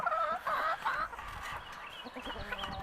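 Hens cluck and murmur in a backyard coop built from a dog kennel, with a few louder, close calls at first, then softer broken clucking over a steady background hum.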